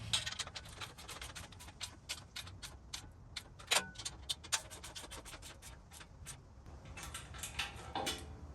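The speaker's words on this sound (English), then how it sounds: "I'm going to tighten up the bolt and nut combo using a 3/8 ratchet, 19 millimeter socket" A 3/8 ratchet with a 19 mm socket tightens a bolt and nut on a spring compressor stand, giving a fast run of quiet, close clicks in bursts with short pauses, and no talking.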